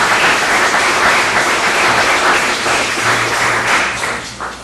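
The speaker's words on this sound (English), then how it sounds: "I really think this council deserves a round of applause for their work" An audience at a council meeting gives a loud, sustained round of applause, close and dense, tapering off slightly near the end.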